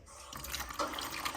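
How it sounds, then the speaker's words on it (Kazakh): A weak trickle of hot water from a tap fed by a gas water heater whose flow is too low to ignite it: a soft, steady spattering hiss with light dripping, close by. "Мына ыстық судың ағысына мән беріңдер."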